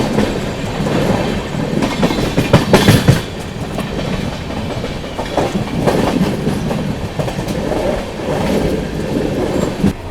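The 12860 Gitanjali Superfast Express, Howrah to Mumbai CSMT, runs at speed through Nandgaon station without stopping, with a loud continuous rumble and rhythmic clickety-clack of wheels over rail joints and occasional sharper rattles.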